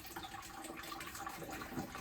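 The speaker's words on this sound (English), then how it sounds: "So we need to empty it of water, 100 litres." Water drains steadily from a 100-litre hot water tank during a villa renovation, a faint continuous rushing and trickling wash with no pauses or talk.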